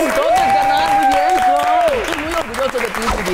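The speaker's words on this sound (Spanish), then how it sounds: "¡Ay! Un aplauso." Dense applause rolls through the whole moment during a light-hearted chat show game, with a voice calling out in a long drawn-out tone over the clapping.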